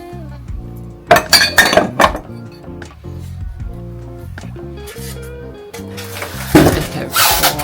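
Glassware, including a wine glass, being handled and set down, with bright clinks and chimes in quick clusters near the start and end, close and fairly loud, and low indoor sounds in between.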